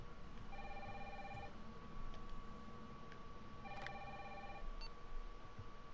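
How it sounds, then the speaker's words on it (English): A telephone rings in the video game Resident Evil 3 Remake, with two electronic rings about three seconds apart over a low hum of game ambience. "Who could that be? Where's the phone?"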